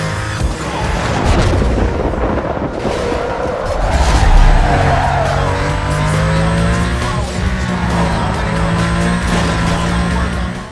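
Race cars in Need for Speed: Most Wanted roar continuously at close range, with engines revving and shifting pitch and tires squealing, sustained and loud throughout.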